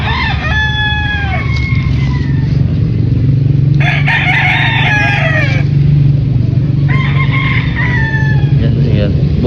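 Several Kelso and Boston Sweater gamefowl roosters crow loudly in turn, three distinct cock-a-doodle-doos with gaps between, over a constant low background hum and distant traffic.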